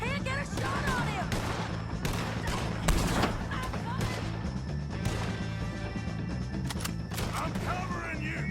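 A Red Dead Redemption 2 gunfight against O'Driscolls: dense, close gunshots crack in rapid, overlapping volleys, mixed with shouting voices throughout.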